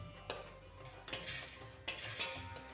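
Flour roasting in a pan for methi laddu is stirred with a spoon, giving three scraping, clinking strokes against the metal over a faint sizzle, close and without speech.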